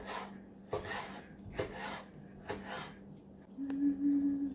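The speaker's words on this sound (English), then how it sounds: "I'm gonna slice it one more to make it a little bit shorter piece" A knife slices through cooked beef tripe on a board, cutting pieces shorter: four or five soft, fairly close cuts come at an even pace, followed by a brief clatter.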